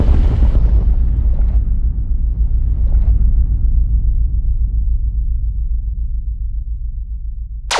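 An atomic bomb explosion sound effect: a loud, close boom that decays into a long, low rumble and fades over several seconds, ending in a brief sharp sweep.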